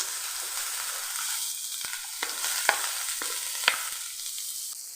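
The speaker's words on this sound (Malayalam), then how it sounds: "ഈ ഫ്ലെയിം ഒന്ന് കുറച്ച് വെച്ച് നമുക്ക് അരിഞ്ഞെടുത്തിട്ടുള്ള സവോള ഒന്ന് ചേർത്ത് കൊടുക്കാം" Chopped onions sizzle steadily in a pan over lowered flame, a constant frying hiss broken by a few sharp clicks and scrapes of a spoon stirring, close and alone with no talk.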